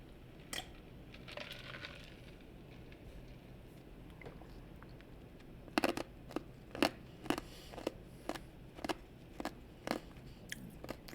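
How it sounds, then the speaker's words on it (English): Ice cubes being chewed close to a microphone, a quiet steady background with a run of sharp crunches and cracks, sparse at first and then frequent and irregular. "you can probably hear that ice cube chewing"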